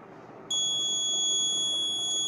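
A drunk-driving accident prevention system's alarm buzzer switches on abruptly and sounds as a steady, loud, piercing high-pitched electronic tone that holds without a break over a faint room hum.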